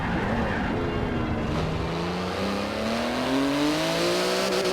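A 3.8-litre flat-six twin-turbo 700-horsepower car in Forza Horizon 4 revs up loudly and steadily, engine pitch climbing through acceleration, no voices.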